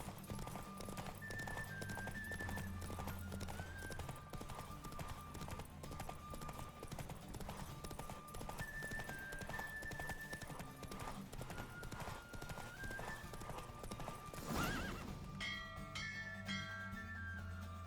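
Hooves of a galloping horse in a race in The Witcher 3 keep up a steady clip-clop, with a faint bell-like tone and a brief whinny or rush near the end, over continuous game music.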